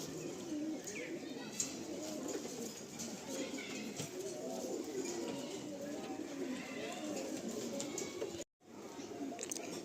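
Giribaj pigeons in a large loft in Kolkata, with soft low cooing repeated throughout amid general loft ambience and a brief dropout near the end.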